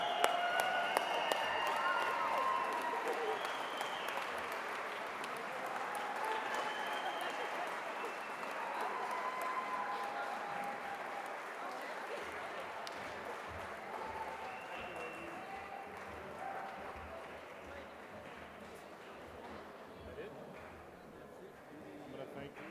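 Crowd at a Hall of Fame ceremony standing and applauding a championship team, a broad, sustained wash of clapping with murmuring voices and faint cheers, gradually fading toward the end.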